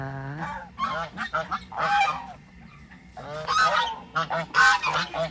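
Geese honk repeatedly at close range, loud nasal calls in irregular bursts, with brief pauses between groups of cries.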